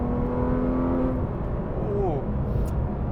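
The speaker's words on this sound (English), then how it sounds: "Engine is just screaming" A 2019 Porsche 911 GT3 RS engine winds up near 9,000 RPM, a loud rising whine that holds then drops as revs fall, with a shift-like sweep near the end.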